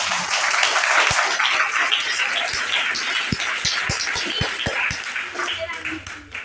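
Audience clapping at a Hindi kavi sammelan poetry recital, a broad crowd wash with scattered distinct claps, heard under and alongside a speaking voice for about six seconds.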